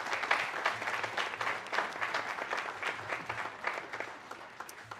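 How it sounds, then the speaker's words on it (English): Audience applause for the sound crew at a live outdoor drone show event, a steady dense patter of many hands clapping, moderately loud and continuous throughout with no talk over it. "Would you please give them a huge round of applause?"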